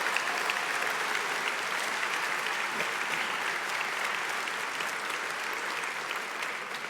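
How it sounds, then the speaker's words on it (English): A large gala crowd claps steadily throughout, the applause even and fairly soft as if heard from a distance, thinning slightly toward the end. "if we could have a round of applause for all of the wonderful members of the House and the Senate who are here"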